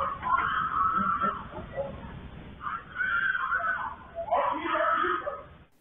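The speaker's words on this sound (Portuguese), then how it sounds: "Os gritos de socorro logo após o crime são da esposa da vítima." A woman screams for help just after a crime in which a motorcycle courier was killed, three long, strained, wailing cries in a muffled, low-fidelity recording, with broadband background noise underneath.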